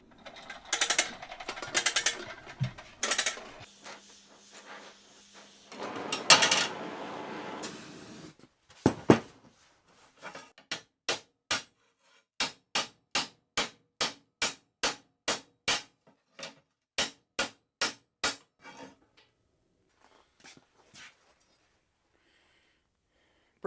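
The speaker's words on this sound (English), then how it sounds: "hammer this flat." Hammer blows on a heated lawn mower blade being flattened with oxyacetylene in a shop: clanging strikes at first, then a long run of sharp evenly spaced ringing hits, near and loud.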